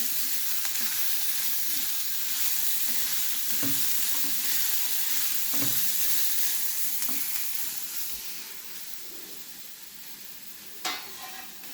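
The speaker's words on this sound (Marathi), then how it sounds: "आणि बारीक चिरून घेतलेली लसूणी ह्याच्यात घालते. ती पण आपण छान परतून घेतोय." Finely chopped garlic sautéing in a pan for a Goan Saraswat tiny-prawn dish, a continuous, moderately loud sizzle with scattered scraping taps of stirring, easing slightly near the end.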